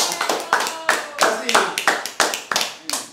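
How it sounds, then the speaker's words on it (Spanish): An audience claps in a sharp, uneven rhythm at a 50th-anniversary celebration of the Escuela de Bomba y Plena Don Rafael Cepeda Atiles, with loud close hand claps and voices mixed in throughout. "¡Aplauso!"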